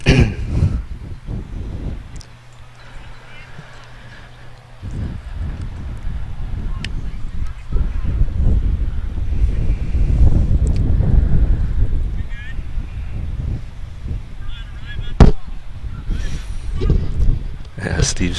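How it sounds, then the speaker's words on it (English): Gusty outdoor wind rumbles and buffets the microphone in loud surges, with people talking intermittently over it and an occasional knock. "So we weren't lying when we said it was a little bit windy out here."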